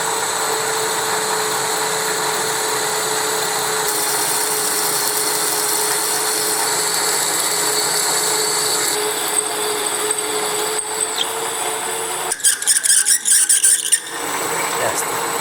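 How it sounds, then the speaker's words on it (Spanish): A lathe drills the central hole in a wooden revolver drum, making a steady high whine and squeal that holds for a long stretch before giving way to brief, choppy bursts near the end. "voy a proceder a hacer el agujero central primero"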